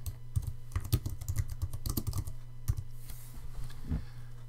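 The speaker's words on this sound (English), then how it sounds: "we could type in" Rapid keyboard typing on a computer while entering text into an image editor, a close, steady patter of key clicks with a few pauses, no voices.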